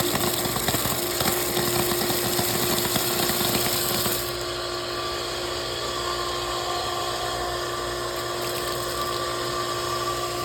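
Water pump running steadily to build pressure and air out the lines, a loud continuous mechanical hum with a steady tone that drops slightly in level and texture partway through.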